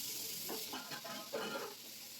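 Mango pieces fry in hot oil with five-spice and dried chillies, giving a faint, steady sizzle broken by a few soft stirring scrapes.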